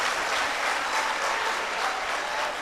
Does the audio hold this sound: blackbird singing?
no